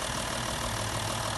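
Audi Q7 S Line diesel engine idling in good condition, a steady, even low rumble with a faint knocking texture, close and continuous.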